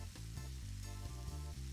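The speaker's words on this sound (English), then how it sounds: "it's time to add in the garlic and sage and give that a really good stir." Garlic and sage stirred into softened vegetables in a pan while making chicken scarpariello, giving a quiet, steady sizzle with soft stirring movement throughout.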